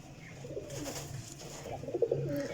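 A lot of twenty-nine pigeons coo in soft overlapping murmurs, a low warbling drone that swells slightly toward the end with no voices.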